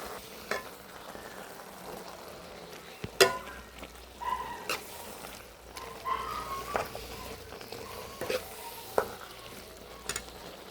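A spoon stirs jackfruit avial in a pan, giving soft scraping and clinking with a few sharper knocks over a low, steady background sizzle. No one speaks.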